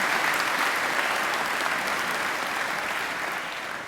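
A graduation ceremony crowd gives a round of applause, a thick, even wash of many people clapping that continues steadily throughout and eases slightly toward the close.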